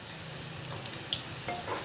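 Steady hiss of tempering spices frying in hot oil for bitter gourd pickle, with a couple of small pops and clicks over the constant sizzle.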